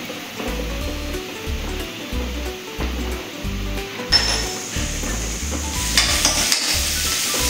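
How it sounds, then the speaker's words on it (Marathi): Garlic and coriander paste stirring into onions frying in a pan, with a steady close sizzle throughout and a utensil scraping and clinking against the pan, no talking. "यामध्ये आता मी हे लसूण आणि कोथिंबीरचं वाटण घालत आहे"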